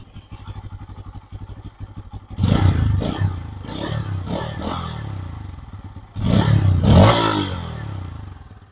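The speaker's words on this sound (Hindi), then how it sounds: "तो भाई आपको पल्सर N160 का एग्जॉस्ट नोट कुछ ऐसा सुनने के लिए मिलेगा।" A Bajaj Pulsar N160 motorcycle idles with a low putter, then the exhaust revs hard twice in loud, rising bursts before settling back down.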